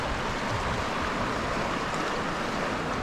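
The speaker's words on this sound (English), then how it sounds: "This river is certainly flowing high." A high-running mountain river in Alberta, Canada rushes in a dense, loud, steady roar close by, with some wind buffeting and no voices.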